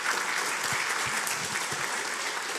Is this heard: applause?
yes